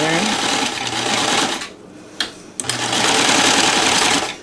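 A NELCO L 400 zig zag sewing machine runs a fancy decorative stitch, its fast steady needle clatter whirring loudly, pausing briefly midway with a few small clicks before starting up again.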